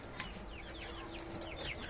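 Chickens and roosters cluck and chirp softly nearby on a farm, a scattered series of short calls over a quiet background.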